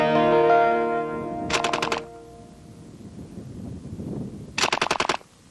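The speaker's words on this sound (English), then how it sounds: "As the trigger is squeezed, the heel of the sear drops out of the piston extension way." A Canadian Forces C9 light machine gun fires two short automatic bursts a few seconds apart. Each burst is a rapid, loud string of close shots, heard after a fading tonal hum and amid low mechanical rumbling.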